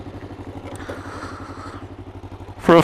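A 1998 Kawasaki GPZ500 motorcycle rides off-road, its engine a steady low pulsing drone close by with light rattling over rough ground, ending in a brief loud burst.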